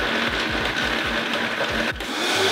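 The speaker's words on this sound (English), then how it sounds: "This looks like some heavy duty blender." A heavy-duty blender whirs loudly with a rapid, rhythmic chopping pulse that shifts briefly near the end, making vegan mozzarella with no talk over the motor.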